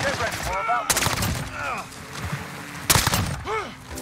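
Gunfire in Modern Warfare crackles in a few sharp, loud bursts, with two distinct volleys standing out while players talk excitedly around them.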